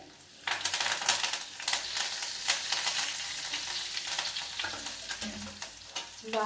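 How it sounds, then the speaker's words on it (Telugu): Curry leaves crackle and sizzle steadily in hot oil while tempering a ridge gourd dal, with light stirring scrapes on top, close and continuous throughout and no one speaking. "బాగా సేపట్టు అన్నాక ఇంకా కరేపాకు వేస్తానండి"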